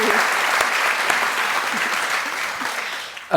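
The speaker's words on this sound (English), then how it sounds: "let's have another welcoming round of applause for Pip." Sustained, loud applause from a festival audience at a book event, a dense wash of clapping that holds steady for a few seconds before briefly dipping and swelling again at the end.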